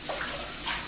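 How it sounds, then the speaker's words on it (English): Beef being washed in water, a brief soft splashing and trickling, close and faint, with no voices. "So now you can see I'm washing it."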